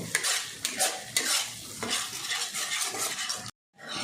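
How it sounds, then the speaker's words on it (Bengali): A spice mixture with turmeric and Kashmiri chilli sautés in a pan for a prawn curry, giving a steady sizzle with close, repeated stirring scrapes, then a sudden brief silence near the end. "আবারও সমস্ত কিছু আমি ভালো করে একটু কষিয়ে নেব"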